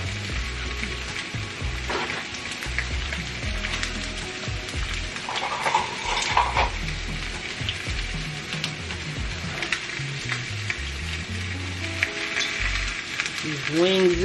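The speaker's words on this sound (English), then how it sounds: "I'm going to sear this so it has a nice brown coating on it" A Cornish hen sears in hot oil in a pan, a steady close sizzle and crackle running throughout, with some clattering and a faint scrape of handling over it.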